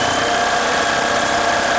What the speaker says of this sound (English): You got to hit that pedal and let that engine crank over.